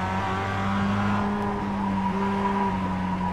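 A race car engine drones steadily in the iRacing sim during a drafting duel, a loud continuous whine with shifting pitch and no pauses.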